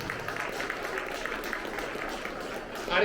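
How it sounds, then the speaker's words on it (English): Applause from a school audience honoring middle school honor roll students, a steady dense patter of clapping filling the room for about three seconds, with a brief louder burst near the end. "Let's give these guys a round of applause, huh?"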